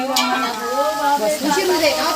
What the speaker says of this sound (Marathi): इकडं फोडणी दिलेली आहे